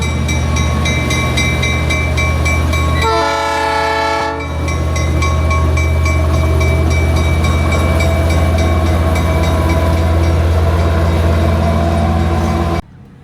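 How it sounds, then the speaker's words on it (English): A Durango & Silverton narrow gauge railroad train rumbles loudly and close by as it passes, a strong continuous roar with a long horn blast near the start. "I'm going to get hit by a train"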